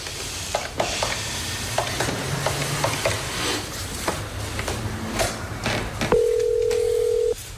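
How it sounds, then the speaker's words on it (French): A telephone rings once near the end, a steady electronic tone lasting about a second, after a stretch of quiet room noise and small clicks in an apartment building. "Ça sonne."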